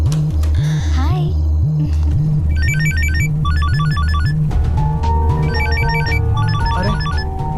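A mobile phone rings with repeated electronic tone bursts over a loud, pulsing low hum in a comedy film scene, the pattern repeating several times at close range.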